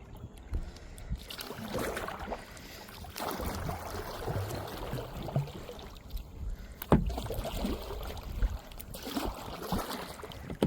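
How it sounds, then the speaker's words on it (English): A kayak moves along the Nashua River in Groton, Massachusetts, with repeated paddle strokes dipping and splashing close by in an uneven rhythm, over a soft background of moving water and light wind. "I'm going to paddle beyond and try to look back"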